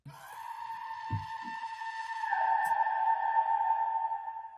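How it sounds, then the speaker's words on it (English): A single sustained, pitched scream holds for several seconds, drenched in echoing reverb, with a few soft thumps at the start. "Just a simple scream like that. And then we added the reverb."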